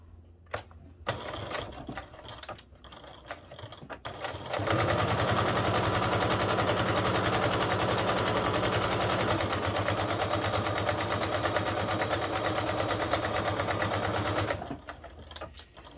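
Sewing machine top stitching an eighth of an inch from the edge on a fabric travel organizer, with a few short bursts and handling clicks before a loud, steady run of about ten seconds, then stopping.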